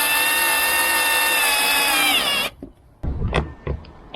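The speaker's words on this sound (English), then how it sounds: "So it's just a matter of screwing that all in now." A Lidl cordless screwdriver drives screws into a Keter Store It Out Midi 880 litre plastic outdoor storage box, its motor whining steadily and winding down, followed by clicks and knocks of handling, close up and without speech.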